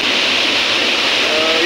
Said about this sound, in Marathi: आणि फायनली मी धबधब्यावर येलोय।